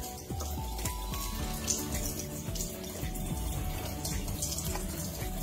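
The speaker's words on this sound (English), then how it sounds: "Okay, so the water is running, and here we go." Water runs steadily from the tap of a Kangen water machine into a container, a continuous close splashing stream with some faint drips and no voices.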